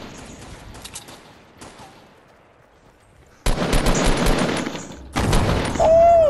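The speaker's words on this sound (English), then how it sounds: "Yeah, I hear gunshots, most definitely." Automatic gunfire from the Fortnite video game, with a quieter scattered stretch of shots giving way to two loud, dense bursts of rapid fire near the end.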